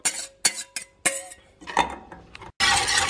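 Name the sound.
custard mixture poured back into saucepan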